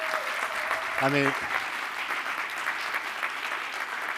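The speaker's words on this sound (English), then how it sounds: "let's have another round of applause" Steady audience applause fills a live talk event, a dense wash of many hands clapping throughout, with a voice speaking briefly over it near the start.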